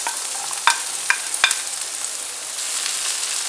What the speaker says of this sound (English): I'm going to saute this till the onions become translucent